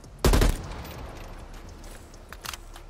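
An M4 rifle in Call of Duty Cold War fires one sharp, loud burst near the start, then the tail fades away and a faint mechanical clatter follows near the end.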